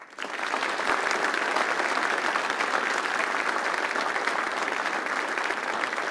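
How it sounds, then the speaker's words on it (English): An audience at a military visit event in Yongsan claps steadily after a performance, a dense even wash of applause that rises quickly and holds throughout. "So let's give them one last round of applause."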